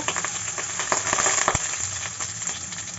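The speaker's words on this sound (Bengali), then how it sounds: "এখানে আমি ডিমগুলো সুন্দর করে ভেজে নিব" Eggs sizzle and spit in overheated oil in a wok, a dense crackling hiss with a few sharper pops, close by and without any voices.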